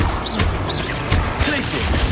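A Confringo fire spell blasts in the video game Hogwarts Legacy, giving sharp crackling explosive bursts and impacts that repeat over a dense, loud battle din.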